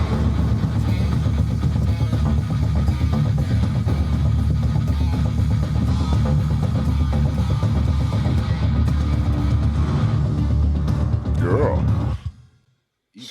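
Heavy distorted death metal guitars grinding out a thick, loud, continuous riff over a backing track for several seconds, then stopping abruptly near the end, with no voices.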